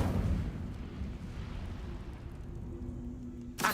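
A fire spell, Incendio, cast in a video game, gives a steady loud roaring whoosh of flame that holds for several seconds and then cuts off with a brief burst at the end, with no talk.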